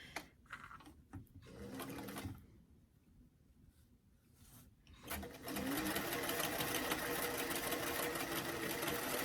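A sewing machine stitches a doll dress seam from hem to armhole: short bursts of stitching with pauses, then a long steady run of fast rhythmic whirring up close.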